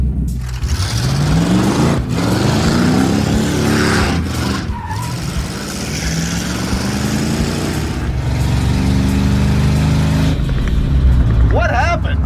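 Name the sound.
Chevelle crew cab car engine running badly, loud racket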